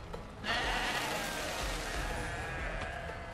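A goat in Goat Simulator 3 lets out a loud, sustained bleating yell that lasts nearly three seconds over faint game ambience.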